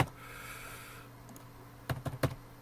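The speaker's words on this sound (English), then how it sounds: "I'm typing in nearly darkness here." A few quick keystrokes on a computer keyboard while writing Java code, soft and close in a quiet room, with a short cluster of clicks near the end; no talk.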